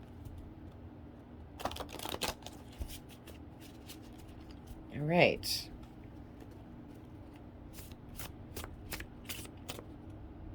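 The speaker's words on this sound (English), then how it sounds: "One more big shuffle." A deck of tarot cards shuffled by hand in one big riffle, with scattered soft card slaps and taps around it, close up, and someone saying a few words.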